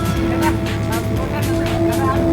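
A motorboat engine drones in a steady, close hum, with people talking over it.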